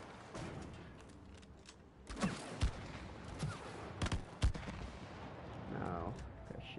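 Gunfire in the cooperative video game It Takes Two, a handful of separate sharp shots and thumps spaced a second or so apart over low game ambience.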